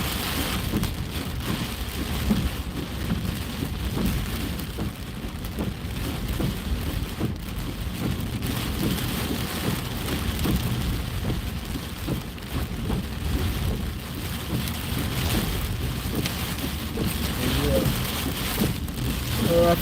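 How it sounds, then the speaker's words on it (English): Heavy rain pours steadily around Tampa, a dense, unbroken hiss of drops on surfaces lasting the whole stretch, loud and close, with no clear talk over it. "Gotta drive back to Tampa in this rain."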